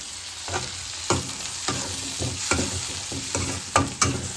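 Tomatoes for pav bhaji sizzle and fry in a pan with lightly browned onions, under a steady close hiss broken by repeated scraping strokes of a spoon stirring the mixture.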